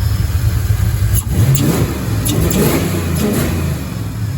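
A Ford Mustang engine fitted with a GT40 intake runs loud and close, with a steady low rumble and a few throttle blips that swell and fade over the idle.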